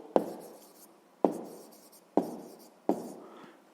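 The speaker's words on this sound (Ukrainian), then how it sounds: "Так, то записуємо це число" Numbers being written by hand, heard as four sharp, evenly spaced pen strokes on paper at close range, each a crisp tap followed by a short scratch.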